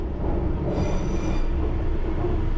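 A London Underground train runs from the driver's cab in a steady, close rumble, with wheel squeal and a high whine drifting through it and no talk.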